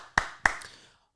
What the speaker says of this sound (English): let's give Misha a big round of applause